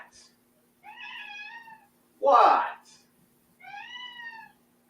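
A cat meows twice in clear, drawn-out harmonic calls, with a short burst of noise between them, close by in an indoor room.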